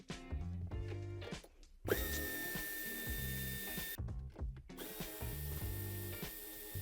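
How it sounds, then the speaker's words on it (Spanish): A long 10 mm wrench loosens the two nuts holding the rear bumper reinforcement bar on a 2018-2020 Mercedes C-Class S205 Estate, giving a close run of ratcheting and whirring bursts broken by short pauses. "Aquí tendremos que quitar dos tuercas que sujetan el paragolpes."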